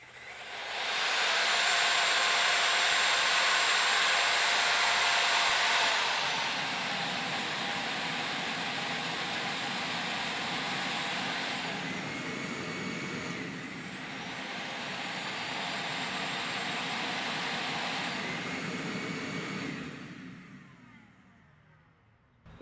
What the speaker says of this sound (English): Let me try a vacuum.